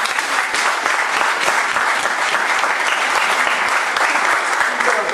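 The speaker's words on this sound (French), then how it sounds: "Acclamons la parole de Dieu" A church congregation bursts into sustained, dense applause, many hands clapping steadily and loudly throughout with no break.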